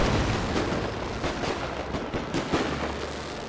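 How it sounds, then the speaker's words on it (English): Mortar and artillery fire in the World War I strategy game The Great War 6.0, with a quick run of muffled booming impacts and thuds over a dense rumbling battle background. "Plus then mortar shots coming, or my artillery shots coming in."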